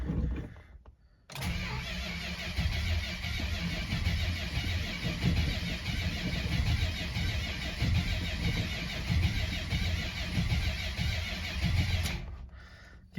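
Cold start of a 1972 Chrysler Imperial V8: after a brief crank the big engine catches and runs loud and close at a rough, rumbling idle for about ten seconds before cutting off.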